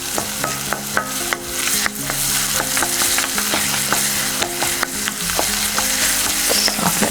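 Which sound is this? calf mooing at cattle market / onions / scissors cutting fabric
onions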